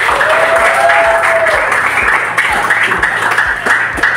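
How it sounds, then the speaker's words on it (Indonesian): Audience applause at the close of a classroom presentation, steady dense clapping from a crowd filling the whole stretch at even loudness, with a brief voice-like tone near the start. "Tepuk tangan untuk kita semua."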